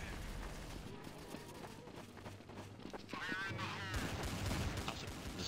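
Gunfire in Counter-Strike: Source during a zombie escape match, with rapid rattling shots and scattered in-game effects under a constant bed of voice chat and people talking.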